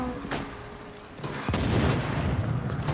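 Sniper gunfire in The Division game crackles as a sharp burst and then a dense barrage of shots and impacts, loud and continuous after a brief quieter stretch.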